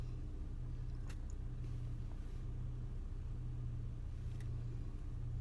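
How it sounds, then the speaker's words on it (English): Cars drive through a red light at a snowy intersection, a steady low rumble of engines and tires heard from inside a vehicle, with a couple of faint clicks and no talk. "That light been red and they still coming through it."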